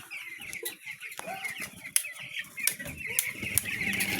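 Ten-day-old broiler chicks chirp continuously in a shed, with a dense chorus of high, overlapping peeps, a few sharper calls standing out and occasional wing flaps or rustles underneath.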